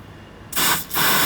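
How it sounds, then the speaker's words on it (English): Two short hissing bursts of fogging spray go into the spark plug hole of a 1968 Chevrolet El Camino engine under rebuild, close and loud after a quiet moment. "Gonna get it cleaned up and put it back in after I put some fogging spray inside"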